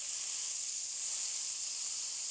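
Meatball sizzling in hot fat in a frying pan, a steady, even hiss that holds close and constant throughout with no voices over it.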